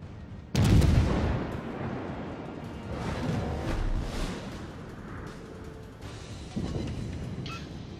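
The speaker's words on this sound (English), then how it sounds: "we tried to fire at this New Mexico over here on the right" Heavy naval gunfire from World of Warships battleships, with one loud booming salvo followed by rumbling, rolling echoes and further quieter blasts, standing alone without speech.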